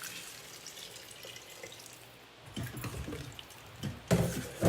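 Liquid pours into a pot of Indian-style pasta curry sautéing in an Instant Pot, a watery splashing and trickle that starts faint and grows louder in bursts toward the end, with no voices.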